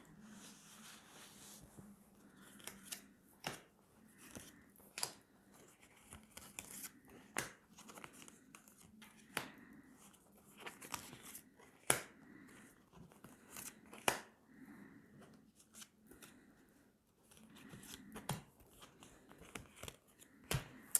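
Tarot cards being shuffled and drawn, a faint series of crisp snaps, flicks and papery slides at irregular intervals, with soft rustling between them and no talking.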